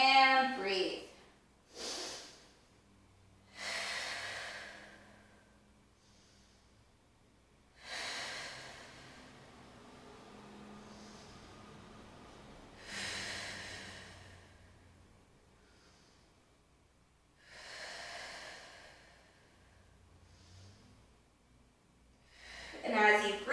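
Slow, deep breaths during a stretching exercise, long drawn-out inhales and exhales repeating at an unhurried pace, close and soft, with audible airflow and brief nasal snorts.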